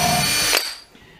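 A drill drives a Turbo Gold woodscrew, one loud close whirring burst lasting about half a second that cuts off sharply and leaves a brief quiet tail.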